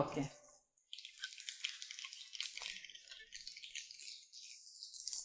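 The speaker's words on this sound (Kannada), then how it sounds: "ಎಣ್ಣೆ ಕಾದಿದೆ ಈಗ ಸಾಸಿವೆ ಹಾಕೋತಾ ಇದ್ದೀನಿ" Mustard seeds hit hot oil for sabudana upma, a steady close-up crackle and sizzle of popping seeds that sets in after a brief pause and runs on densely.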